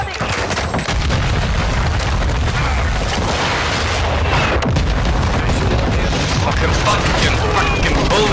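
Dense, continuous video game gunfire with booms and rapid bursts fills the scene at high, steady loudness, layered over a voice that speaks now and then.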